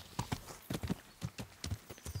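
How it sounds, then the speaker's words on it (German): Horse hooves clip-clop in an irregular walking rhythm as the horse is called in the video game Kingdom Come: Deliverance, fairly faint and alone. "Rufen wir mal unser Pferd."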